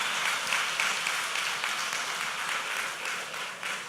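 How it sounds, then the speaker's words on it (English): An audience applauds an auction winner at a leadership and mentoring gala, a steady wash of many hands clapping throughout, moderately loud and sustained with no voices rising above it. "So, please, a round of applause for her."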